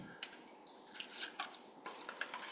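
During a tai chi and qigong exercise class, someone takes a drink of water, with close, wet sipping and swallowing sounds and a few small liquid clicks over quiet room tone.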